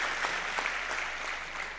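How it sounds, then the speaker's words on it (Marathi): Audience at a welcoming ceremony in Amravati district clapping, a steady patter of applause with no talk over it. "पुन्हा जोरदार एकदा टाळ्या वाजवून आपण सर्वांचं या ठिकाणी स्वागत करूया"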